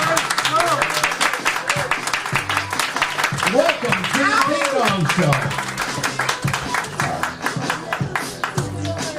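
Audience applause for a comedian at the Ding Dong Show, steady clapping from a small crowd that runs throughout beneath someone speaking into a microphone.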